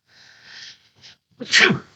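A single sharp sneeze, close and loud, preceded by a faint breathy intake, with silence around it.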